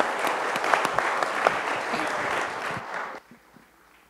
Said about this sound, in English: can we once again have a round of applause for the wonderful panelists?